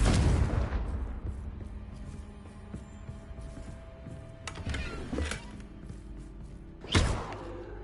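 A Confringo blasting spell goes off in the Hogwarts Legacy video game with a loud booming burst at the start that decays over a couple of seconds, followed by smaller thuds and a second sharp blast near the end.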